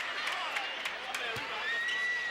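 A basketball arena crowd at an Atlanta Experience vs Jacksonville Giants game: a steady, fairly distant crowd roar with scattered claps and a whistle-like tone, under a commentator talking.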